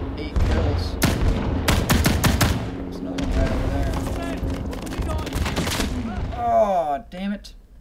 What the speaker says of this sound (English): if you get a big machine gun like that, they can penetrate right through